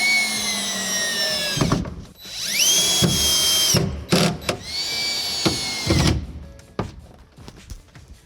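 Power drill driving screws through the flange of a Delta Classic 500 shower wall set, several whining bursts that rise in pitch and then stop, close and loud, separated by short pauses and clicks.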